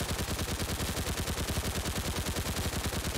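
PPS-43 submachine gun firing in a Fallout 4 mod, one long unbroken burst of rapid, evenly spaced shots with a chunky, moderately slow cyclic rate, steady and prominent with no talk.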